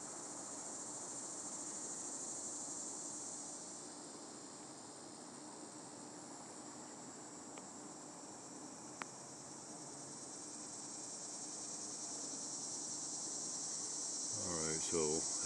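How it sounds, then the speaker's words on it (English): Faint, continuous high-pitched insect buzzing holds steady in the background, with a brief low rumble near the end. "we've got cicada in the background"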